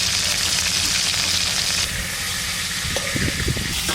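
Prawns fry in mustard oil in a pan with a steady, dense sizzle that continues throughout, shifting slightly midway with a few soft clinks and stirring sounds near the end.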